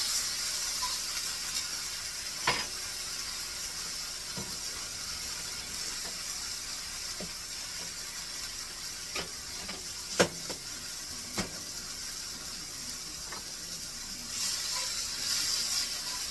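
Beef fajita meat sizzling in a pan, giving a steady, bright hiss with occasional small pops and crackles, close and unbroken throughout.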